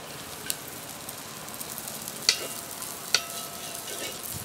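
Raisins frying in a pan for vermicelli kheer, a soft steady sizzle with a couple of sharp stirring clicks, close and fairly quiet.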